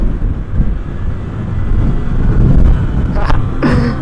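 Strong wind roars and buffets continuously against a rider on a supermoto motorcycle, with a low rumble throughout and a couple of brief higher swishes near the end.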